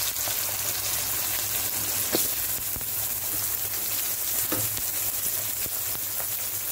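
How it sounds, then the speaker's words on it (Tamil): Finely chopped onion fries in oil with whole spices and green chillies for masala macaroni, giving a dense, steady close sizzle with a few light stirring knocks scattered through. "இதுக்கப்புறம் நம்ம ஃபைனாக சாப் பண்ணியிருக்கிற வெங்காயம் சேர்த்துக்கலாம்."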